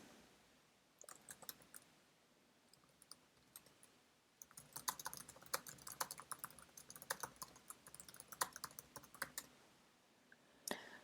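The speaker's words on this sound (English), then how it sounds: "I'm just going to type a quick message to Nico here saying good luck and have fun" Someone types a quick message on a computer keyboard, with sparse clicks that turn into a dense burst of close, quiet keystrokes and end in a final louder tap.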